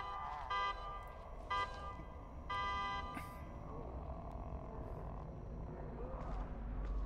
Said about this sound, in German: Was war das? Das ist eine Hupe.